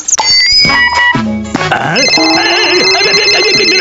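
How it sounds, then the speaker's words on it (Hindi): A phone rings loudly with bright electronic ringtone tones, layered over music-like sounds and brief voices. "मेरा फोन आ गया, ये बजने लगा।"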